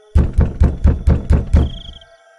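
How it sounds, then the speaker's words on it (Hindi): Six evenly spaced knocks on a wooden door, loud and close, with a faint tone lingering after; no voices. "तभी उसको अपना दरवाजा खटखटाने की आवाज आती है"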